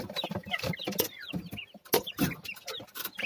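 Texas-breed chicks clucking close by as they leave a cardboard box, a series of short bursts and chirps with brief pauses, no talking.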